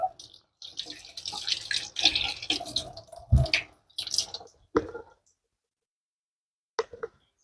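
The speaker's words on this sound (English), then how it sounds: "So first we wash them thoroughly and eat one to taste." Grapes rinsed under a running tap, with uneven splashing and dripping water plus clicks of handling for about five seconds, then near silence broken by a couple of faint knocks.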